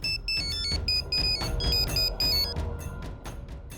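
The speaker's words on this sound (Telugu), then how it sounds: "వదిన ఫోన్ చేస్తుంది." A phone ringtone plays a repeating electronic melody in short bursts, loud and close, with no voices.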